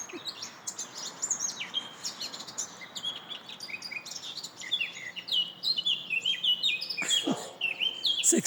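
Outdoor birdsong with many birds trilling and chirping in overlapping high phrases, steady and moderately close, and one brief sharper burst near the end.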